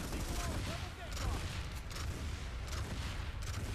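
Sustained gunfire fills a Planetside 2 battle, rapid overlapping shots and booms forming a dense, loud barrage, with voices speaking faintly underneath.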